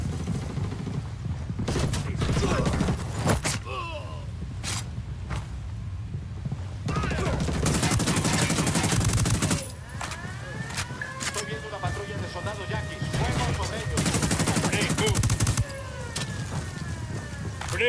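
Video game firefight with bursts of gunfire, repeated shots and rattling volleys filling the scene alongside vehicle and mechanical noise, while voices talk intermittently over the action.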